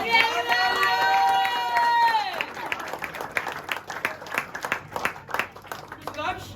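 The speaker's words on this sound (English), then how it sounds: "round of applause" Applause from an audience at a felicitation celebration, starting as a steady clapping wash, with a voice speaking or singing over the first two seconds and then scattered, uneven claps continuing.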